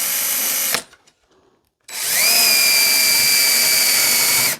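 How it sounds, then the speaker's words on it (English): A power drill fitted with a countersink bit bores into a wooden dowel on a P-51 pedal plane fuselage, running in a loud close whine, stopping briefly, then spinning up again and holding steady. "You hold this flush with the front side of your fuselage and drill straight into the dowel."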